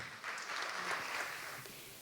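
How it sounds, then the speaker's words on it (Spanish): A brief, soft patter of audience clapping for naturalist Luis Mazariegos at a regional biodiversity gathering in Jardín, heard from some distance as a steady wash of hands that tapers off. "un aplauso para él"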